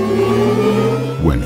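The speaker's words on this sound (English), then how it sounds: "These are elements of the Audi R8 e-tron sound," Synthetic engine sound of an Audi R8 e-tron electric sports car, triggered by a fully depressed gas pedal, holds a steady layered droning whir and then sweeps upward in pitch near the end.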